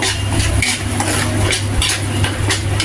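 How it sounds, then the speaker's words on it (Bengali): Ginger paste and cumin frying in a pan with salt, a steady close sizzle over a low hum, with light scraping and stirring sounds. "এটা ভাজা ভাজা হচ্ছে"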